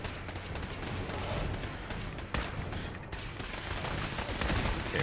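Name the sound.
gunfire in the video game Fallout 4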